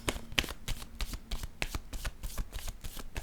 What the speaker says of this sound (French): Bon, je vais piger une autre carte.